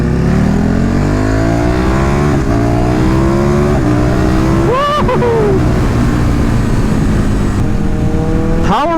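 A KTM 1290 Super Duke motorcycle engine revs up and down while riding, its harmonics rising and falling with a sharp upshift blip midway. The engine is loud and close against wind noise.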